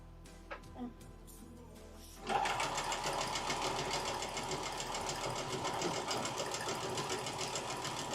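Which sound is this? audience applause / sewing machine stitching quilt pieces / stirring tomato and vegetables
sewing machine stitching quilt pieces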